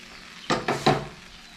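Three quick scraping strokes of a spoon through banana flower thoran mixed with crushed coconut in a pan, close and fairly clear against a quiet kitchen background.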